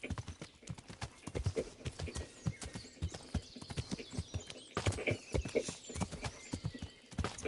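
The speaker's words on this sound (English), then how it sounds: "My horse is upset." Horse hooves clip-clop steadily in Kingdom Come Deliverance, a medieval role-playing game, with a tired, restless horse occasionally whinnying; the quick, dense hoofbeats stay close and fairly loud throughout, with no talking.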